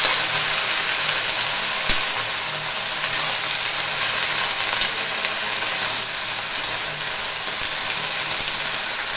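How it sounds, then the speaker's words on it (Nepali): A kaade jalu vegetable curry fries in a pan with continuous dense sizzling and hiss, and a few faint knocks of stirring pass under the steady frying noise. "यसलाई चाहिँ मैले राम्रोसँग चलाउँदै पकाउँदैछु।"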